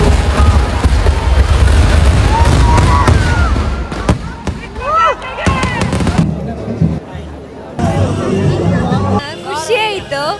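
Firecrackers bursting at a village temple fair, a dense loud crackling barrage that gives way to scattered sharp bangs, with crowd chatter and whistling sounds throughout.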